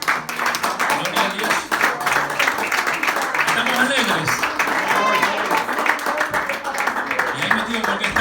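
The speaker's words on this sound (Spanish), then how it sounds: "Le damos un fuerte aplauso al Señor" A church congregation applauds during a Friday evening Spanish-language service, rhythmic clapping mixed with someone speaking over it and voices in the room.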